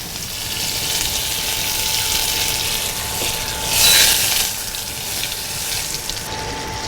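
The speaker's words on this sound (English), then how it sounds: "So I want to get that butter melted." Butter melts in canola oil in a pan with a steady, close, hissing sizzle that swells for a moment near the middle, then settles back to an even fry.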